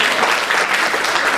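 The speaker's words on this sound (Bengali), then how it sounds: "একটি জোরে করতালি।" Loud, dense applause from an audience at a Bengali New Year 1425 celebration held by Udichi in New York, a steady wash of clapping filling the whole brief moment without pause.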